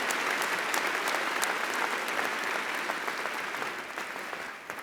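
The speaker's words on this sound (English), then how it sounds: "Give them another round of applause." A large crowd at a Georgia Tech bachelor's commencement ceremony gives sustained, thick applause for the graduates' parents and families, filling the hall evenly before easing slightly.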